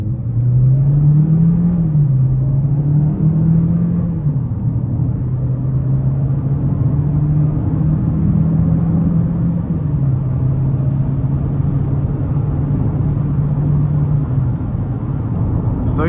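A 2026 GMC Terrain AT4 AWD accelerates from a stop, its engine producing a steady low drone that rises slightly in pitch and holds under cabin rumble for the full length.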